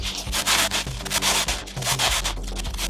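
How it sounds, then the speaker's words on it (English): Sandpaper rubbed hard against snowboard pants fabric, a loud, continuous coarse scraping in rapid back-and-forth strokes, close up with no talking. "There is noticeable wear from the sandpaper in there, but it did not rip it."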